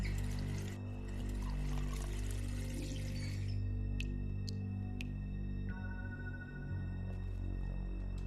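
Water pouring in The Wolf Among Us, a steady close stream running for a few seconds and then stopping, followed by soft tonal game sounds and faint clinks.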